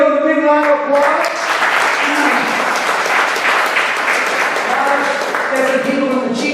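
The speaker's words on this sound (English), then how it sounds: "Give them a big round of applause." Crowd applause at a live show in Wareham, Massachusetts, a loud, dense burst of clapping that swells and holds for several seconds, with a voice talking over the start and the tail end.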